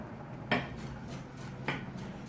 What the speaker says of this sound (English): So for the stems, I'm just kind of cutting them nice and thin